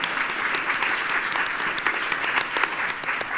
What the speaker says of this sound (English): Let's give these ladies a round of applause for all the wisdom they shared today.